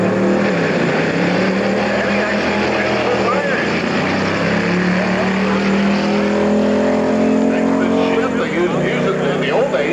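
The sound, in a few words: 307 cubic inch flathead hot rod drag racing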